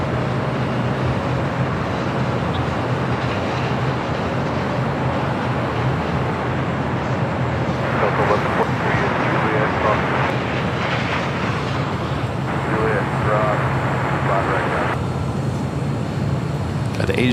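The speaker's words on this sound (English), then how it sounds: "Air France is our next arrival" An Air France airliner arriving on the south side at LAX makes a steady mid-level engine rumble throughout, with brief bursts of brighter noise layered in partway through.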